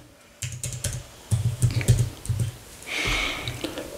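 Quick bursts of key taps come from typing on a keyboard, close and clear with a rapid, uneven rhythm and brief pauses between groups of keystrokes.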